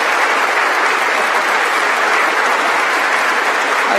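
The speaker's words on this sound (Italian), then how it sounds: "io farei un applauso anche a tutti quelli che hanno preparato," A church crowd applauds the choir and organisers at the solemn entry ceremony of a new bishop in the Diocese of Rimini, a loud, dense, steady burst of clapping close by that fills the whole moment.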